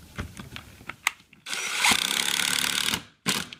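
A power drill fitted with a countersink bites into soft wood in a workshop, with light clicks and handling noises, then a sustained loud whirring grind of about one and a half seconds, a pause, and a short final burst.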